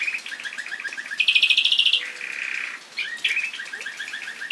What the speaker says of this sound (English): As you can see, the canaries live here year-round.